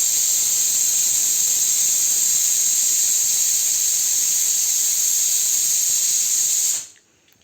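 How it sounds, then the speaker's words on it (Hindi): Pressure cooker whistle while cooking potatoes, a loud, sharp, continuous steam hiss held steadily for nearly seven seconds before cutting off abruptly into quiet. "सीटी आ गई है कुकर की। आलू वाली।"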